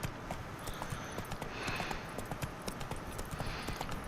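A horse's hooves clip-clop at a steady trotting rhythm in The Witcher 3, quiet and fairly close, with a faint voice in the background.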